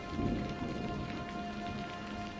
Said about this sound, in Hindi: बारिश तो बिना रुके पूरी रात से हो रही है